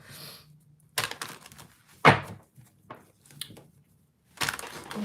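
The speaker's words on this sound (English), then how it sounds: "let's shuffle up" Tarot cards are shuffled up close in a few separate bursts of crisp riffling and soft thumps, with quiet pauses between them.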